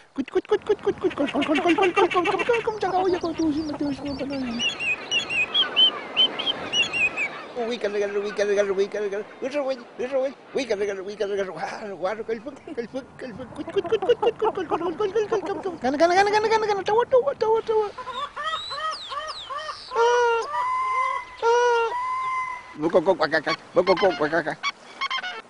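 Birds call out in a natural setting with loud, honking, goose-like cries and varied tonal calls. They come in repeated bursts with short pauses across roughly twenty-five seconds, close and strong.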